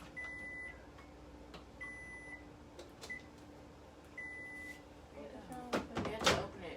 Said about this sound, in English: My microwave won't turn on unless I open it and close it.